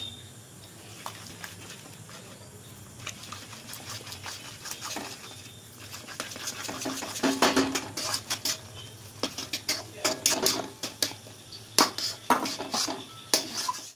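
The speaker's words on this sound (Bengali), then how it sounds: "এবার অল্প অল্প করে দেবো এরকম করে মেশাবো জলের সাথে" Rice flour being stirred into hot water in a pot for mango dudh puli pitha, heard as soft scraping and clinking of a utensil against the pot that grows busier and more rhythmic toward the end, close up with no talk.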